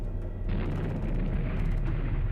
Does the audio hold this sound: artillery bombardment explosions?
yes